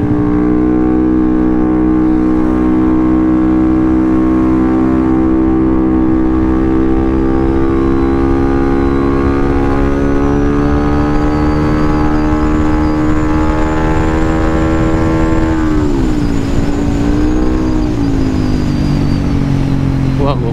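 Yamaha Aerox 215cc scooter running without an air filter, a steady loud engine drone with stacked harmonics held for about fifteen seconds before the pitch dips and rises again as the rider eases off and reaccelerates on a relaxed ride.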